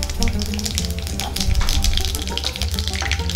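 Tempering spices crackle and sizzle steadily in a pan of hot oil, a dense continuous hiss with small pops, close and fairly loud, with no voices.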